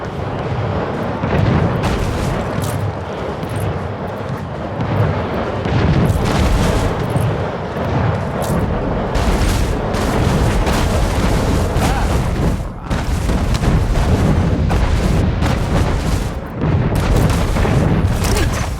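Heavy cannon fire from warships in the naval strategy game Anno 1800, a continuous barrage of loud booms and explosions layered over battle ambience, with no pauses across the engagement.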